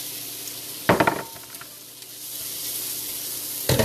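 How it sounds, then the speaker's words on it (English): Beef strips dropped into a hot pan for beef stroganoff sizzle and fry, with a couple of sharp bursts of spitting fat over a steady hiss. "Beef going in."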